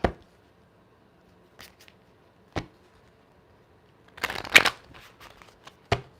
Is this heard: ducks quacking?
no